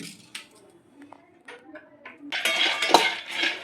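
Raw peanuts tumbling and rattling in a metal pan for peanut chikki: a few faint scattered knocks with a quiet voice first, then a louder close clatter of nuts and spoon against metal.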